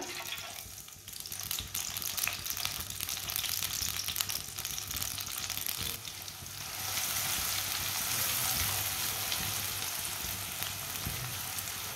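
Finely chopped onion frying in half a cup of oil, a steady close sizzle and crackle running throughout that grows slightly louder and denser in the second half, with no talking.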